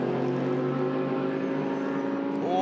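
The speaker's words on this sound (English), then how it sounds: "Christopher Mies, Connor De Filippi, the Audi points leaders, and Martin Ragginger ahead in the Porsche." GT race cars, an Audi and a Porsche, race at the Red Bull Ring, their engines droning steadily and loudly with a rising pitch near the end.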